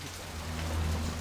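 Steady hiss of falling rain with a low rumbling undertone, an unbroken wet ambience in the neon-lit city streets of the Blade Runner video game, with no voices.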